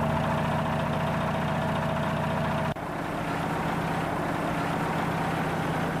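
A car engine idles after MoturUP engine treatment is added, running as a steady, close hum that shifts abruptly in tone partway through, then settles into an even idle.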